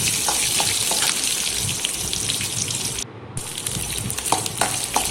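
Chopped onions sautéing with urad and chana dal in a pan for kuzhi paniyaram, a steady close sizzle and crackle with occasional stirring scrapes and a brief drop in the middle.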